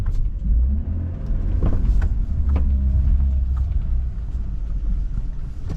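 A BMW E36 with a newly installed differential drives along, its engine and road rumble loud and steady from inside the car, with brief rattles and clicks over the hum.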